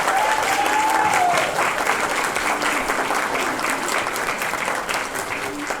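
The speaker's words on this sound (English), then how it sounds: "Let's give them a huge round of applause." An audience at a junior school performance claps steadily in loud, sustained applause that tapers slightly toward the end, with a brief voice audible near the start.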